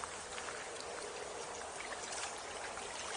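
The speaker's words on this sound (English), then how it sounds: "it's a nice little walk along a stream" A small stream beside a trail flows steadily with a soft, continuous, hissing trickle. It is fairly faint and even, and no voices can be heard.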